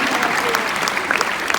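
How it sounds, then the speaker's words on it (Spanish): Audience at a church congress in Bakersfield, California applauding the mothers-in-law, a brief steady wash of clapping with a voice faintly under it. "un aplauso a todas las suegras"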